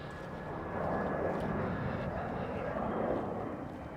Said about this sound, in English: the planes are fairly low around here